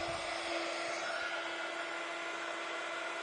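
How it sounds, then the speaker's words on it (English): A hair dryer set to hot blows over candle wax to melt it, a steady, close whooshing drone with a constant whine and no voices. "just use your heat tool on hot or a hairdryer on hot"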